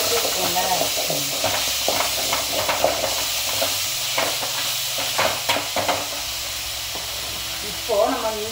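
Ginger sizzling and frying in a pan, stirred now and then, as the base for a hot banana stem soup; a steady close sizzle runs throughout under occasional speech, with clattering stirs.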